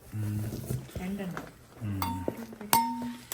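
A curry dish pulled from a courier package clinks and clatters in short knocks of metal or glass, with one bright ringing clink near the end, while a person talks over the handling.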